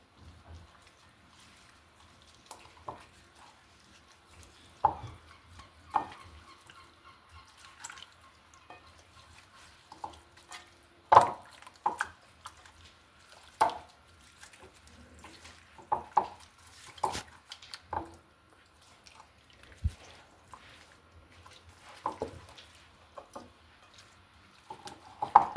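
Raw chicken being mixed by hand in a marinade of garlic, herbs and water for a Moroccan chicken tagine, heard as scattered soft wet squelches and clinks against a bowl, spaced irregularly over quiet.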